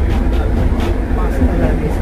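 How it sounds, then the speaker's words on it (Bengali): An underground metro train pulls away from a station and runs through a deep tunnel with a dense, low rumble. A voice talks over the noise. "ট্রেন ছেড়ে দিল, ট্রেন যাচ্ছে নেক্সট স্টেশনে যাচ্ছে ট্রেনটা।"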